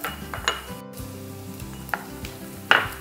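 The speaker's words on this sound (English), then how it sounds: "I'm going to whisk this up, creating a bit of a vinaigrette." A vinaigrette of white wine vinegar, sugar, canola olive oil blend, mustard and garlic chives is whisked in a bowl, with soft scraping strokes and a few sharper clicks over quiet background music.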